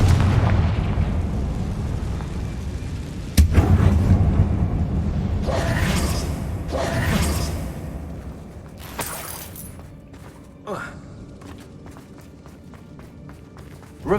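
A Confringo fire spell bursts in a closed, tomb-like mine in Hogwarts Legacy: a sharp blast around the middle, followed by rumbling, crackling bursts and a few smaller pops, with no speech.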